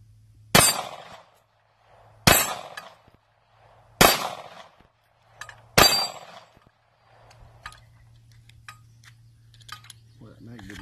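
Sig Sauer P365 subcompact pistol fired until empty, four sharp, loud shots spaced about every two seconds, each with a brief ringing tail, followed by quieter handling clicks and a faint hum.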